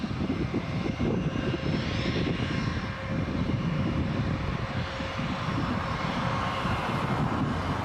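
A United airliner passes at Toronto Pearson airport, its engine roar a steady, broadband drone that holds loud and even for several seconds with no voices.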